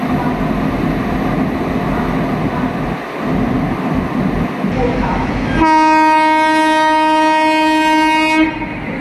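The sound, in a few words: Mahabodhi Express train passing by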